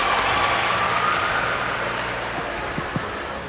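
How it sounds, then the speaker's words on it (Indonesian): An audience clapping at a university public lecture, a dense, even patter of many hands that sounds somewhat distant and gradually thins out, with a couple of sharper single claps near the end. "Ya, tepuk tangan, bagus,"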